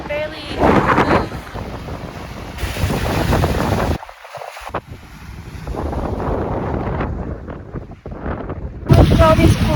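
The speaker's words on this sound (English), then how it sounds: "it's so windy I can barely move" Strong wind blows at a lake, buffeting the microphone in loud roaring gusts that briefly drop out and then return, with possible faint lapping water beneath.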